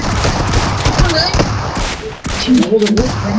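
Rapid gunfire from a first-person shooter video game in a 2v2 match, dense and continuous bursts that fill the clip, with a voice briefly talking over the shots.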